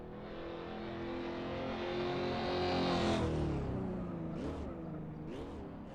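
A race car in a sim racing game on a bumpy modded track revs up steadily through the gears toward fifth, with clear upshift dips near the end, loud and continuous.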